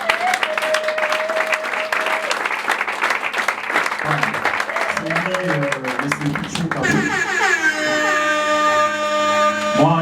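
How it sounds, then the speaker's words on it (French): Steady applause from a crowd fills the whole stretch, with music and tonal sounds rising beneath it toward the end. "Je vous prie, avec vos applaudissements,"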